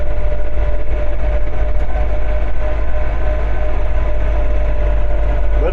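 Steady loud engine drone of a 3039R compact tractor with a cab driving in high gear, a constant low rumble and a faint whine, running continuously without pause, close by.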